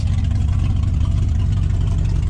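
Truck engine fitted with an axle dump exhaust, revving briefly with a loud, steady low rumble close by and no talking.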